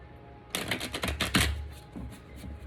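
A quick riffle of tarot cards being shuffled, a rapid burst of crisp flutters lasting about a second, then a couple of soft taps.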